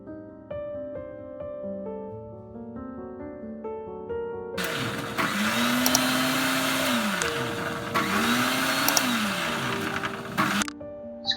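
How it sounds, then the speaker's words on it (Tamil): A mixer grinder blending pandan leaves with 250 ml of water starts up and runs with a loud, steady whirring roar, its motor pitch dipping and recovering twice as the contents churn, after some quieter background music. "இப்போ நல்லா மிக்ஸி ஜார்ல அரைச்சிட்டு"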